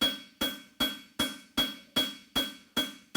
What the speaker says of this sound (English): Overlapping all the hammer blows